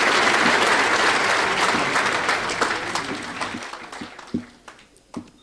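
An audience at a 40th birthday celebration applauds Ishwar Ramlutchman with loud, full clapping that tapers off into a few scattered last claps.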